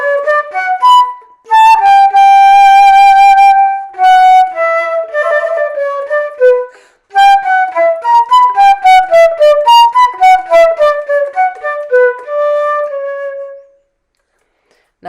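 A solo flute plays a minuet melody in even, flat notes with little shaping, clear and close, ending in silence.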